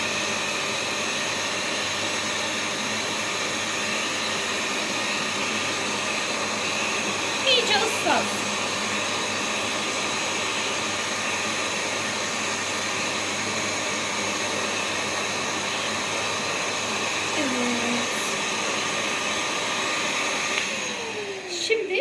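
A Bissell SpotClean Mini carpet cleaner runs steadily with a constant loud motor whine and hum, with a few brief bumps and scrapes near the middle and end as the carpet is sprayed.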